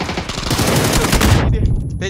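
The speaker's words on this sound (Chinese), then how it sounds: "后面立交桥有人，立交桥那边有枪声啊" Rapid bursts of automatic gunfire in a PUBG match crackle loudly and close for over a second, then cut off, leaving faint game sounds.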